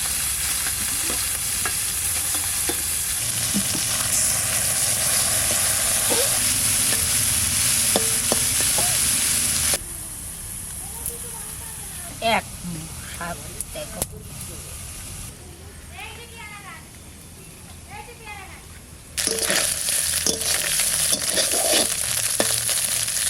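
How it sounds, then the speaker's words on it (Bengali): Small morola fish fry in mustard oil in a pan, giving a loud, steady sizzle and hiss with stirring clatter. The sound drops quieter midway and then swells again, and a voice talks at times. "মাছ ভাজা হয়ে গেছে"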